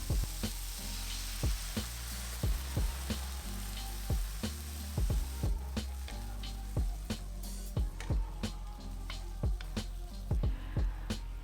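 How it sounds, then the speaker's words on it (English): Chicken and celery sizzle steadily in a hot pan, with repeated soft clinks and scrapes of a utensil stirring throughout; no talking. "add your celery, stir it a little, and then add your braising liquid and bring it to a boil."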